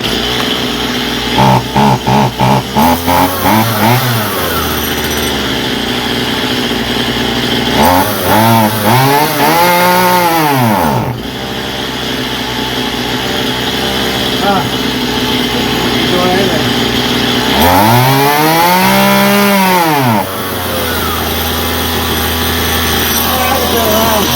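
A Stihl MS171 chainsaw with carburetor trouble runs loudly and close, with uneven idle and revving passages and two strong rising-and-falling revs.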